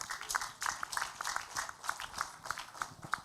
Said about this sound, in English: So let's clap for the teacher.